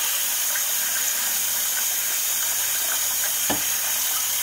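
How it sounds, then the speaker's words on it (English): Makeup sponges being rinsed under a running tap, a steady close hiss of flowing water lasting throughout, with a brief splashy surge near the end. "I am actually washing my sponges"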